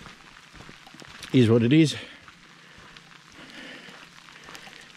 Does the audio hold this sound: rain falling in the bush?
yes